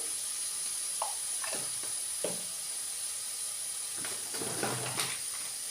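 Garlic sautéing in a pan for a telakucha (ivy gourd) curry hisses and sizzles steadily after a little water is added, with a few brief louder spits and bubbles over a constant frying hiss, close and alone.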